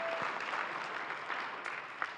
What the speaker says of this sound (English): Let's give a round of applause to Margaret and Dan.